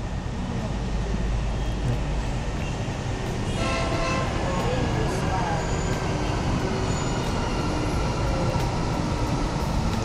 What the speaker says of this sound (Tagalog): Si Mama happy siya pag may dumadaang MRT, yung train.